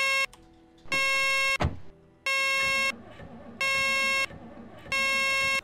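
A car alarm in the video game Project Zomboid blares in loud, evenly spaced beeping bursts with brief gaps, a short thud between the first bursts, and no talking.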